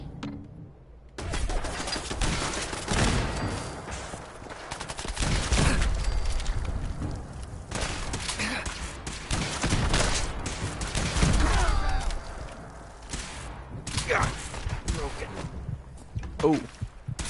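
Thumper weapon firing in the Fallout 4 video game against gunners, repeated heavy bursts spread across a long stretch of loud, dense combat noise, with someone talking over it.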